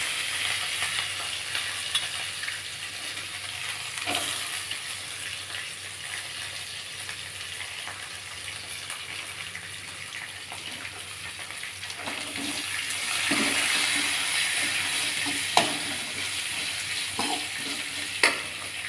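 Onions frying in a pan with golden chana dal and curry leaves, a steady sizzle with occasional stirring clinks and scrapes, close and fairly quiet, no talking.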